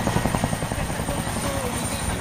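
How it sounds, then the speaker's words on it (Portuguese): A helicopter arrives nearby at a rodeo event, its rotor thumping in rapid rhythmic pulses over a loud engine drone. "Helicóptero chegando com o locutor."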